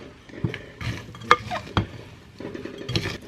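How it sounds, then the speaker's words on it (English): Food stirred in a pot with a small spatula, giving intermittent scraping strokes and light metallic knocks at an uneven rhythm over a faint sizzle. "I'm going to stir this around"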